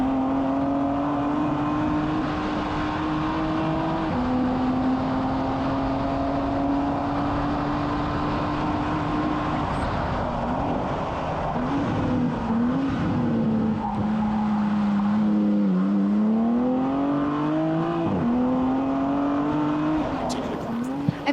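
Race car climbing the Pikes Peak International Hill Climb mountain course, its engine droning steadily with rising and falling pitch through gear changes and bends, loud and continuous throughout.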